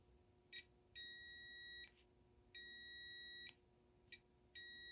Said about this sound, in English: I'm going to test the connection here with the multimeter. So I should hear a tone when I pull on the brake switch here.